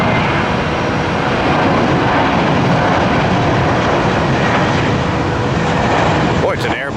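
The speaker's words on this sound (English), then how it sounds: "Boy, it's an Airbus kind of morning" An Airbus jet airliner passes near an airport on a morning of arrivals, its engines producing a loud, continuous roar that fills the whole stretch at steady strength, with a voice speaking under the noise.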